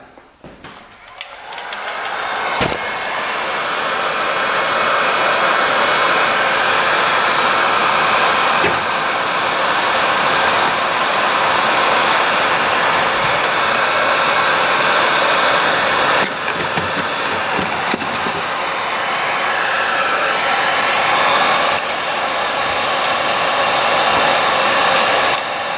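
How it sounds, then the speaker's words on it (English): A heat gun runs steadily, warming a stuck seal on a 1980s dirt bike, giving a loud, continuous airy whir that holds nearly unchanged for the whole stretch. "Let's try to get the heat gun out and try to heat that up."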